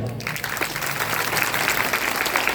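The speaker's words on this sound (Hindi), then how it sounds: "इसलिए अपने लिए ताली बजाओ" A large audience at an outdoor village lamp ceremony under tents breaks into steady, dense applause, loud and sustained throughout.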